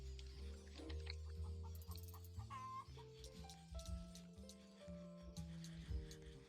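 A chicken clucks in the video game Build a Dog Empire, with a string of close, fairly loud clucks over game music.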